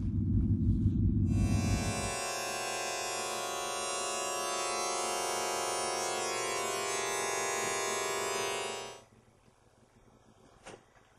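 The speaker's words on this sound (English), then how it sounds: "we're going to play some fascinating test tones" Room calibration test tones from a KRK ERGO system: a low tone sweeping for about two seconds, then a steady loud broadband noise burst lasting around seven seconds before cutting off to near silence, followed by a faint click.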